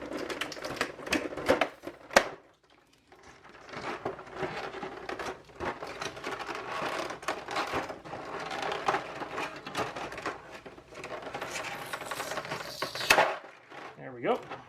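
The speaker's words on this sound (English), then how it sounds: "so I'll just remove that tape quickly here." Tape is peeled off the plastic miniatures tray of the Deep Madness board game, giving close, crackly ripping and rustling with a few sharp tearing bursts amid steady handling noise.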